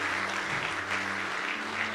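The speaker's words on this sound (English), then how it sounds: "Let's just give our board secretary another round of applause tonight." Steady round of applause from an audience at a Bible college graduation ceremony, a continuous even wash of many hands clapping, with a faint hum beneath.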